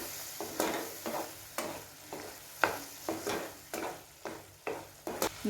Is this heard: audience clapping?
no